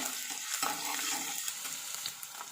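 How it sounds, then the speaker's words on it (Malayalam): Garlic and long-cut ginger stirred in a hot pan for a Kerala coconut-milk fish curry, giving a steady, close sizzle with scraping stir strokes and no talk. "വെളുത്തുള്ളി ഇട്ട് കൊടുക്കാം, കുറച്ച് ഇഞ്ചി ഇട്ട് കൊടുക്കാം, നീളത്തിലരിഞ്ഞ കുറച്ച് ഇഞ്ചി ഇട്ട് കൊടുക്കാം. ഒന്ന് ഇളക്കി കൊടുക്കാം."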